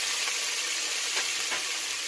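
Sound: pork chop frying until golden brown

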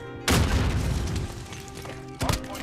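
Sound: cluster strike explosions in video game Modern Warfare

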